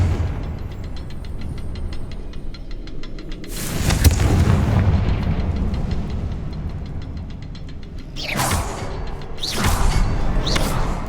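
Confringo fire spell in Hogwarts Legacy, a deep booming explosion that blooms after a rushing whoosh and rumbles on, followed later by further whooshing fiery bursts, loud and close, with no speech.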